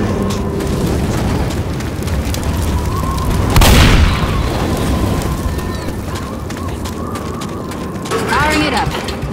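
A grenade goes off in the zombie shooter Left 4 Dead, a single loud, deep boom in the middle of steady game noise and clatter, with voices nearby.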